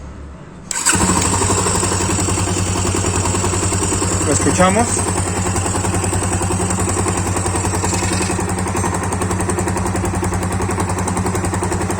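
Yamaha FZ25 motorcycle engine cranks and catches, then settles into a steady idle carrying a knocking noise in the motor, close and loud, with someone speaking briefly over it.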